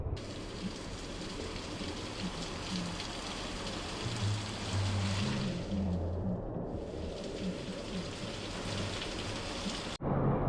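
Steady heavy rain pours down without a break, a dense hiss of drops hitting surfaces, with a low rumble underneath and a brief dip near the end.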